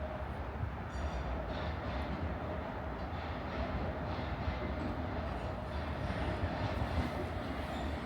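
A London Underground train rolls into a station with a steady, dense roar and rumble that holds throughout at close range, with no talk over it.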